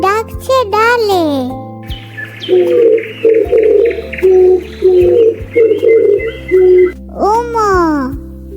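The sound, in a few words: dove cooing on a branch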